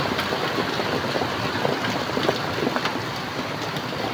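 Heavy afternoon rain pours steadily in a dense, even hiss that fills the scene without letup, close and loud with no voices.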